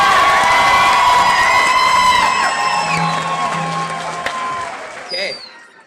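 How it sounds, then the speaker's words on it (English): Graduation ceremony crowd cheering and clapping for the class of 2018, loud whoops and shouts over applause that tapers off near the end. "let's just give class of 2018 a big hand of applause."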